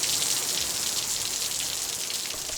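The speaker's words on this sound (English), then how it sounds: "Just the sound of the rain." Steady rain falls in San Diego, a dense even hiss of drops spattering on surfaces, close and continuous with no voices.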